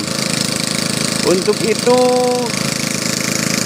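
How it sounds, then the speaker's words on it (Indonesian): A manual borewell drilling rig working in a dry rice paddy, digging a 50-meter water well, giving a steady loud mechanical drone with brief clanks and a tonal whine, under someone speaking. "pengeboran air sumur bor"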